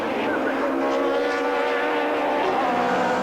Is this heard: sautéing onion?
no